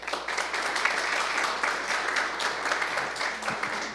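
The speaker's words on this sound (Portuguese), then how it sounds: "Uma salva de palmas, por favor." Audience at the IYPT Brasil 2014 physics tournament claps in a steady, moderately distant wash of applause lasting the whole stretch, with no voices standing out.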